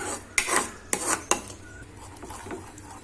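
A spoon stirring white sauce with salt and powdered sugar in a pan on the stove, three sharp metallic scrapes and knocks early on, then softer rubbing stirs, close and without speech.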